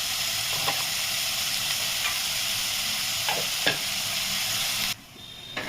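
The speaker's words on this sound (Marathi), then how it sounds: "छान असा कांदा परतला आहे बघा, छान असा गुलाबी कलर झाला आहे।" Chopped onion with a little salt sautéing in oil in a pan until pink, giving a steady close sizzle and hiss with a few scraping stirs of a spatula; the sizzle drops abruptly near the end.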